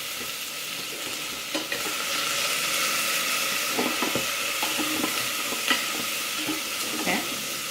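Garlic frying in an Instant Pot ahead of pressure-cooking pork ribs, with a constant bright sizzle and occasional utensil scrapes and clicks close by, no one speaking.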